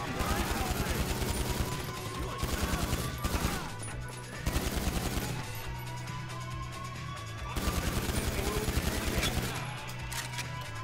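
Rapid bursts of automatic gunfire during a GTA 5 heist shootout, loud and repeated in clustered volleys, with players' voices talking over the shooting.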